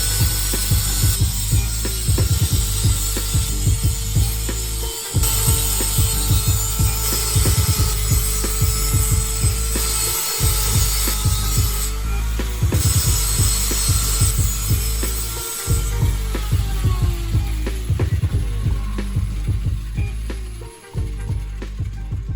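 A Trailblazer SS rear coil spring is cut with a power tool in a garage: a loud, continuous grinding buzz runs through several long passes, broken by brief pauses.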